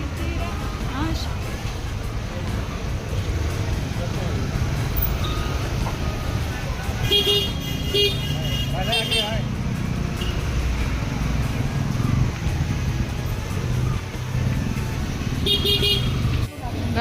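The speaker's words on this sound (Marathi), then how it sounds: "भरती आहे ना म्हणून सर्व गाड्या बाहेर काढतायत" Cars drive off Gorai beach as the high tide comes in, with engines rumbling steadily and a few short horn honks. Voices and music carry on over the traffic.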